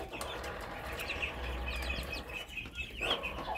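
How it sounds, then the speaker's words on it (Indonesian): Muscovy ducklings about one day old, kept apart from their mother, give repeated high thin peeping calls against a low steady background hum. "Ini adalah anakan entok yang saya pisahkan dari indukan berusia kurang lebih 1 hari ya"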